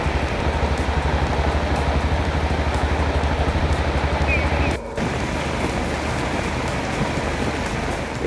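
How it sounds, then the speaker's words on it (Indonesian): Heavy rain pours steadily over Bireuen, Aceh, a dense continuous roar of drops on surfaces with a faint low rumble of traffic beneath and a brief dip near the middle. "hujan lebat ini kembali terjadi di Kabupaten Biren Aceh sejak Selasa yang memicu banjir besar di pusat kota"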